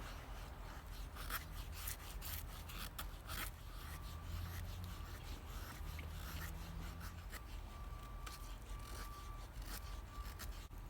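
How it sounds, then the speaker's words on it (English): A knife carving shavings and feather-stick curls from wood with light, controlled cuts, giving quiet, close rasping scrapes in an irregular series of short strokes. "just trying to do some less aggressive cutting just to get some shavings off, maybe some feathers on this as well"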